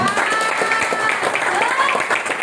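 Audience applause for PTBS at a seminar, a steady, fairly loud patter of many hands clapping throughout, with some voices mixed in.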